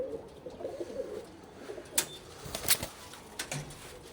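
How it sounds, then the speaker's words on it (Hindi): Pigeons belonging to a pair of pigeon fanciers give soft, low cooing in a loose, uneven rhythm, with a few sharper bursts that may be wing flaps, heard close and fairly quiet with no talking. "तो भाई ये थे कबूतर नोनू भाई के, सचिन भाई के"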